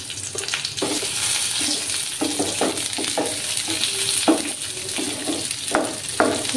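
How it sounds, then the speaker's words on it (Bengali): Cashews and raisins fry in hot oil in a pan, sizzling steadily up close while a utensil stirs and clicks against the pan now and then. "একটু তেল দিলাম, কাজু আর কিশমিশগুলো ভেজে নেব।"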